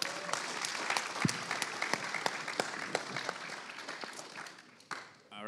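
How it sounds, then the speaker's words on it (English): An audience at the NorthSec 2023 security conference claps, a dense stretch of applause with distinct individual claps popping out, tapering off toward the end while voices murmur beneath it. "Yeah, we should clap for that."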